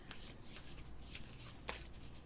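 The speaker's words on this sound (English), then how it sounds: "They're fun to shuffle, though." Playing cards are shuffled close up, quiet riffling bursts and soft flutters repeating over a couple of seconds with no talking.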